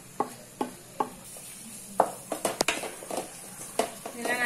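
Masala being stirred for prawn gravy in a pan: a spoon scrapes and knocks against the metal in a steady rhythm of repeated strokes, with soft sizzling underneath, close and fairly quiet.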